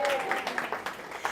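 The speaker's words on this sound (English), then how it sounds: "let's give her a big round of applause" Workshop audience giving a round of applause, fairly soft and brief, with scattered claps and a voice talking over it.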